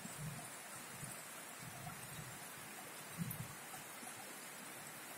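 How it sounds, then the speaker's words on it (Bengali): Long, heavy rain falling without letup, a soft, even hiss of continuous drops heard faintly from indoors, with no voices. "বৃষ্টি নামছে, সকাল 5টা থেকে শুরু হয়েছে, বৃষ্টি থামতেছে না।"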